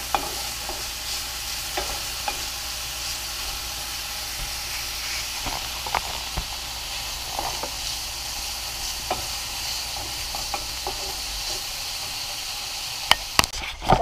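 Bacon and onions sizzle and fry steadily in an ActiFry air fryer, a continuous hiss with occasional louder stirring clicks and a few sharp knocks near the end.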